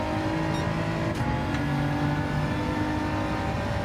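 Race car engine in Gran Turismo 7 holding a steady, loud drone at high revs during qualifying on the wrong tyres, with a brief tonal shift partway through and no voices.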